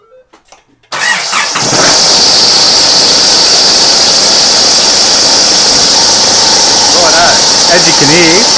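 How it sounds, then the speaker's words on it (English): A Nissan GU Patrol engine cranks and catches after a brief spoken moment, then settles into a loud steady idle with a high squealing fan belt whine on top, and a person talks over it near the end. "I'll turn the car on and show you."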